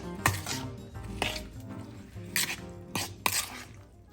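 Strawberries, balsamic vinegar, sugar, orange juice and zest are stirred together in a bowl, with a handful of distinct utensil clinks and scrapes against the dish, fairly close and moderately quiet.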